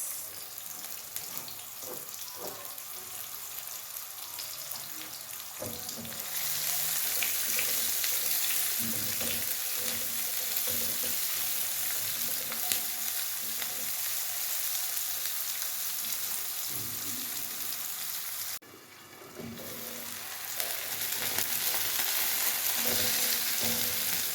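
Coriander stems sizzle and crackle in a hot pot, with steady frying noise and intermittent stirring scrapes and clatter throughout, loud and close, while the cooking continues without speech.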